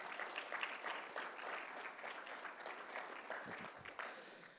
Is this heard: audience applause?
yes